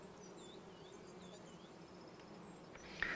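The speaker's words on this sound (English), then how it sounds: "So the bees will fly out into the fields, they'll pollinate" Bees buzz in the farming video game Farming Simulator 25, a faint, steady insect drone low in the mix, with a brief brighter chirp near the end.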